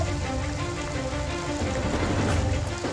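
Rain falling in a steady, dense patter that stays even and fairly loud from start to finish, with no voices over it.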